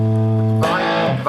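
An electric guitar with a Torrez Deluxe Varitone control plays through a fairly distorted amplifier: a clean sustained note rings, then snaps into a loud, gritty, crunching chord.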